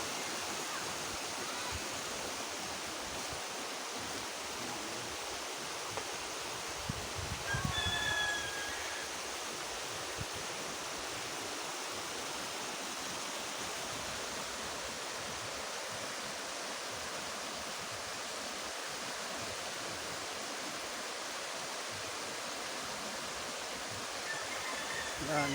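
A river flows steadily, a broad continuous rushing wash of water that stays even and fairly loud throughout, with a faint brief voice or bird-like sound near the middle.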